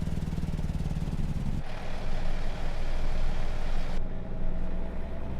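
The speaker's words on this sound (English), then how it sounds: "I do like the Jake brake sound in this truck" Outside exterior view of a heavy truck's Jake brake in American Truck Simulator, a loud continuous engine-braking rumble with a rapid pulsing rattle that shifts character partway through and holds steady to the end.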